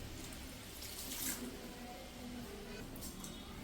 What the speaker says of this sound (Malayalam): ഇനി ഇതിൻ്റെ അകത്തേക്ക് തേങ്ങാപ്പാൽ ചേർത്ത് കൊടുക്കാം